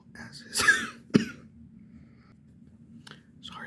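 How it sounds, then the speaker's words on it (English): A couple of sharp, close coughs from a lingering COVID cough with a brief throat-clearing burst, then near silence with faint background hum. "still getting over the COVID cough"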